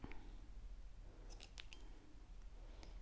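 Scissors snip through material at a craft table, a few quiet, crisp cuts clustered in the middle with faint clicks before and after over low room rumble, no voices.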